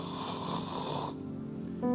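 A voice imitates the loud, rasping snoring of a sleeping man, one long drawn snore followed by a short pause and the start of another, close and alone without talk.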